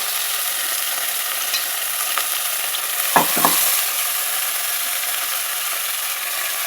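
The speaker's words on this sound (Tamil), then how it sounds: "சிக்கனை எடுத்து இதுக்குள்ளே போட்டு உங்களுக்கு நல்லா கிண்டி கொடுக்கணும்" Chicken being stirred and fried in ginger garlic paste for a Nagercoil-style chicken dish, a loud constant sizzle with a brief scraping stir midway, close up and without any voices.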